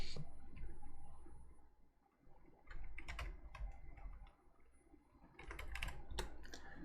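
Typing on a computer keyboard while setting up World of Warcraft add-on options, quick clustered keystroke bursts separated by short pauses, close and fairly quiet.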